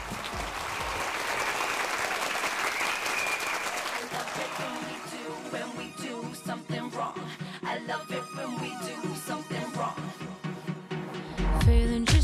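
A crowd applauds as a singer is welcomed, a dense steady clapping for the first few seconds that gives way to music as her new song starts.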